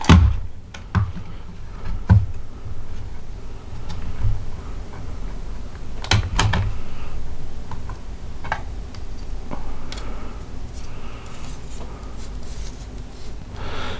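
A remote control's plastic case being pried apart by hand: a few sharp, close cracks and snaps spaced over a quiet background with faint handling noise, and no voices.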